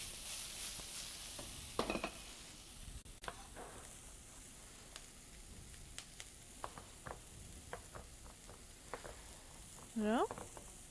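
Onion frying in a pan while making vegan spaghetti bolognese, a steady soft sizzle running throughout with occasional stirring clatters and small utensil knocks, moderately close.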